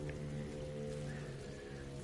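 Steady rain hisses evenly throughout a scene in the PS4 game Tomb Raider: Definitive Edition, over a low, constant tonal hum, with no distinct thunderclap and no voices.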